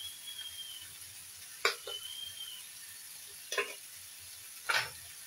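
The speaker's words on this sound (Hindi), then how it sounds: "हम इसको अच्छे से मिक्स करेंगे।" Spices frying in a pan, mixed with coriander powder and red chilli, give a faint steady sizzle broken by three separate scraping stirs of a spoon against the pan, with no talk.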